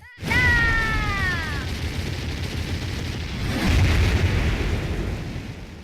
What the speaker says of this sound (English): Not only does it destroy Mecha Santa, but it destroys his entire factory, the explosion being so big that it pushes the Earth out of orbit into the sun